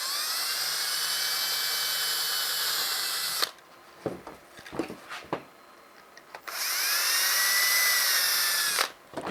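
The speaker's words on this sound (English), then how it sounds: "be careful that you don't drill all the way into your steering servo as you're drilling this hole" A power drill whines loudly for a few seconds while drilling a hole in a 1:10 scale model car chassis, stops amid small clicks and handling noises, then whirs again in a second long burst.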